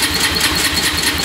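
Honda TRX450 quad engine turning over with the throttle held open during a compression check, a steady, loud mechanical churn with no pauses for the whole moment.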